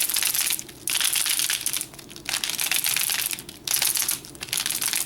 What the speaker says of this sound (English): You can definitely hear some clicking in the magnets